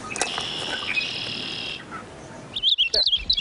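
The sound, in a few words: purple finch singing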